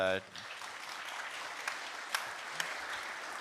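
An audience at a GopherCon EU 2025 panel with the Go team claps steadily in a room after a speaker's voice cuts off, with a few sharper claps standing out.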